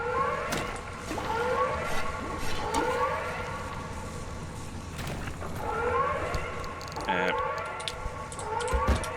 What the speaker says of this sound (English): There is also a siren going on